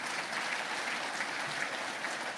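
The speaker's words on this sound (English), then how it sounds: "I ask you to give them a huge round of applause." An indoor audience at a Guyanese diaspora gathering in Canada gives steady, dense applause that holds at an even level from start to finish.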